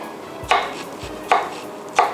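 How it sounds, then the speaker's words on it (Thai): Three sharp knife chops through chili peppers on a cutting board, evenly spaced about two-thirds of a second apart, close and crisp in a quiet room. "อันนี้จะหั่นแค่เป็นท่อน แบบนี้ก็ได้นะคะ"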